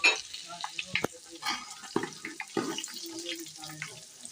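Whole spices are stirred into hot oil with fried onions for potato tahari, giving faint sizzling with scattered clinks and scraping of a spoon against the pot, close and fairly quiet.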